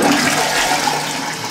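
A TOTO Washlet automatic toilet runs its tornado flush, a loud, close rush of swirling water that churns steadily for the whole moment.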